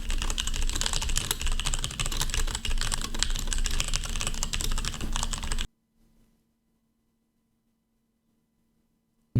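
Rapid, dense clatter of a computer keyboard during a typing test, continuous fast keystrokes close up that stop abruptly, leaving near silence with a faint hum.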